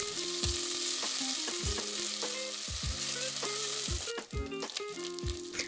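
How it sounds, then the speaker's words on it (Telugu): Ginger garlic paste frying in a pan, a steady close sizzle with repeated scraping and stirring clatters of a spoon against the metal, no voices. "1 స్పూన్ అల్లం వెల్లుల్లి పేస్ట్ వేసుకొని కొంచెం పచ్చివాసన పోయినంత వరకు వేయించుకోవాలి."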